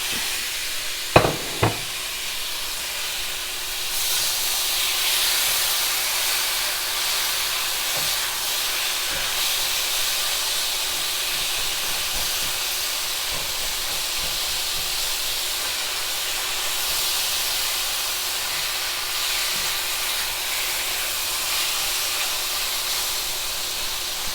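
Coconut mushrooms and brown rice cook in a pan with a steady, soft hissing simmer throughout, preceded by a couple of quick clicks near the start; close and even in level with no talking.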